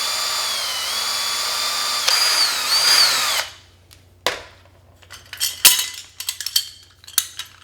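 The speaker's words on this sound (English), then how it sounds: "You're just going to be drilling 2 pilot holes." A power drill bores pilot holes into a workbench to mount a caster, whining steadily for a few seconds with pitch shifts, then stopping, followed by scattered clinks and taps of tools and parts.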